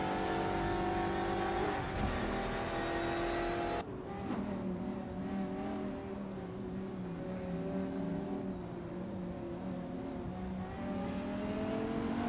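Hypercars controlled by AI race around a track in a racing simulator game, engines droning loudly and continuously, shifting pitch as they accelerate, with a brief louder passing burst early on.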